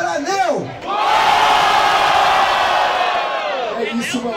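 A crowd at a rap battle, the Batalha da Aldeia, roars and shouts in one loud, sustained swell, with a shouting voice heard briefly at the start and end.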